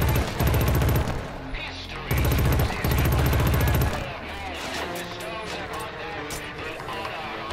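Video game gunfire in Killzone Shadow Fall: two loud sustained automatic bursts close up, then quieter scattered shots while someone talks.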